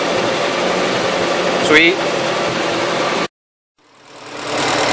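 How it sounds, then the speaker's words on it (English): A 1977 Gravely tractor engine idles roughly, loud and close with an uneven running note. A voice speaks briefly before the sound cuts out abruptly, then the engine fades back in. "It runs there, but she ain't quite running right enough to be using fourth gear"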